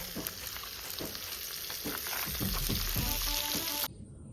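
Fish fries in a big pan with a steady crackling sizzle and occasional soft stirring knocks, close and fairly quiet, cutting off abruptly near the end.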